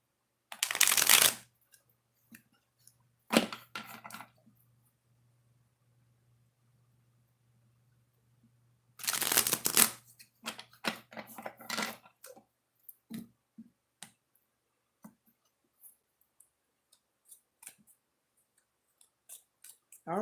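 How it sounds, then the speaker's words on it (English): Oracle cards are shuffled by hand in short riffling bursts, two main shuffles separated by silence followed by scattered soft card clicks and handling, close and quiet. "Two shuffles, Scorpio."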